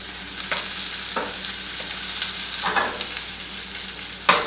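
Spinach, olives and tomatoes sauté in a pan while an omelette is prepared, giving a steady close sizzle with occasional scraping stirs of a utensil and no talk.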